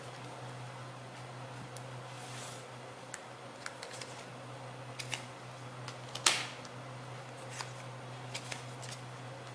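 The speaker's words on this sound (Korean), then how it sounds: "좋은 카드를 뽑아보도록 할게요." Tarot cards being drawn and laid down in a quiet room: soft, sparse papery clicks and slides, one sharper snap near the middle, over a steady low hum with no talking.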